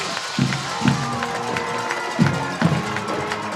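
A home crowd at a high school football game cheers as the Kingsville Brahmas take the field, a steady roar of voices with band drum hits thumping at intervals through the noise.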